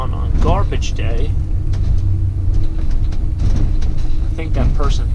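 A van drives around a neighborhood on garbage day, its low road rumble and engine drone steady throughout the cabin while a person talks over it at intervals.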